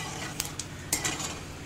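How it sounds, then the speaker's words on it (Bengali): Dried red chilies and cumin frying in hot oil, a soft steady sizzle under a few sharp clinks of a utensil against the pan. "খুব ভালো মতো মুচমুচে করে লঙ্কাটা ভেজে নিচ্ছি।"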